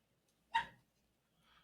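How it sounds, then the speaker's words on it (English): A single dog bark rings out indoors in a quiet room, short and somewhat distant, followed a second later by a faint softer yip or whine. "Oh, my dog's barking."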